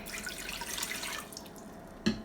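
Water is poured into a Ninja Foodi pressure cooker, a soft steady splashing trickle that thins out, ending with a small clunk.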